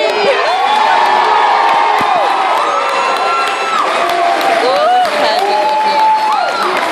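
A convention panel crowd at New York Comic Con 2014 cheers and claps for The Walking Dead Telltale Series guests, loud and close, with whoops and shouts rising over continuous applause.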